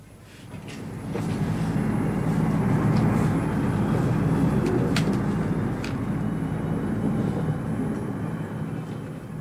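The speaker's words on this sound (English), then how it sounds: "The plane just took off." A plane taking off near an airport, heard as a steady, broad roar that swells and holds loud for several seconds before easing slightly, with no talk over it.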